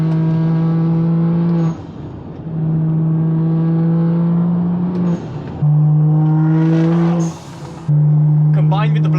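A BMW N55 engine revs loudly through its exhaust several times in succession, each rev a rising growl held for a second or two, separated by brief drops to idle.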